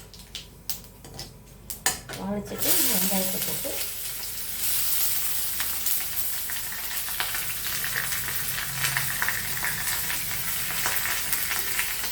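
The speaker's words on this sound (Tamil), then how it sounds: "எண்ணெய் காஞ்சிருச்சு இதில் போட்டு தாளிக்கலாம்" Light clinks and clatter, then a sudden loud sizzle as onions hit hot oil for biryani, settling into a steady crackling fry with occasional stirring.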